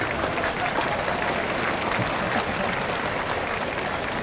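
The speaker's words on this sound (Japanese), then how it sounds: "皆様どうぞ拍手でお迎えください。" An audience at a baseball stadium ceremony applauds steadily, a dense wash of distant clapping that runs at an even level throughout.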